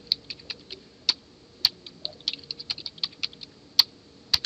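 A password is typed on a computer keyboard during a server setup, a close, crisp run of irregular key clicks in quick bursts with short pauses between them.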